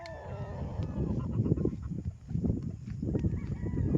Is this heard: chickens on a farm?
yes